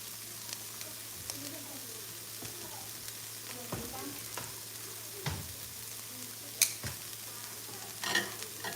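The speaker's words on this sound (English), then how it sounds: "I'm cooking an omelet for my wife" An omelet with cream cheese, mozzarella, onions and peppers fries in butter, a soft continuous sizzle with spatula scrapes and a few sharp clinks of utensils against the pan, no talking.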